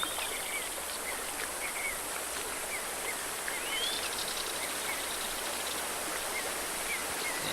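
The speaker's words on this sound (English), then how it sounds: "look at the detailing that they put into the waterfall. Just the waterfall alone, and the ambient sounds" Waterfall ambience in the video game Tengami: a constant broadband rush of falling water with faint bird chirps over it, steady and unbroken throughout.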